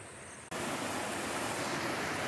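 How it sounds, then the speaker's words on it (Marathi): A small waterfall tumbles down a hillside on a monsoon trek to the Ganpati Gadad caves, a steady broadband rush of falling water that swells up suddenly and then holds constant and close. "हा छोटासा एक वॉटरफॉल पडतोय, वरून डोंगरातून पडत येतोय तो"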